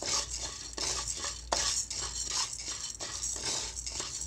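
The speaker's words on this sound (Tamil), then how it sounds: "கிளறி விட்டுட்டே இருங்க." Urad dal being stirred as it dry-roasts in a pan for ulundhu laddu, a steady gritty scraping with repeated louder strokes of the spoon against the metal, fairly close and continuous, with no voices.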